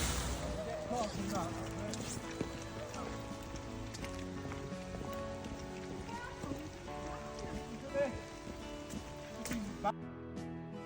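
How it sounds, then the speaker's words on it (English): Steady rain patters on a hard surface nearby at a campsite in Derbyshire, a continuous wash of drips with faint background voices and clatter underneath. "it was raining outside"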